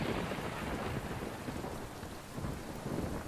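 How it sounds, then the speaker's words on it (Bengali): A heavy thunderstorm roars with dense, steady rain, a broad unbroken wash that stays loud throughout, with deep thunder rumbling underneath. No voices are heard. "সেদিন সন্ধ্যায় প্রচণ্ড ঝড় বৃষ্টি শুরু হলো"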